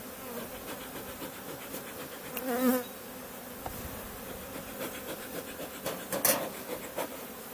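Honeybees buzz continuously around a hive during a honey harvest, a dense hum with individual insects droning closer at moments, plus occasional scraping and rubbing sounds.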